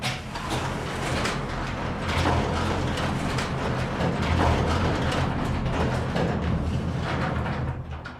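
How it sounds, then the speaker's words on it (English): Roll-up bay doors opening in the video game 7 Days to Die, a continuous loud mechanical rattling and clanking of metal slats and gears lasting several seconds. "show off the bay doors, which required custom animations and paired really nicely with the sound effects for the vanilla roll-up doors"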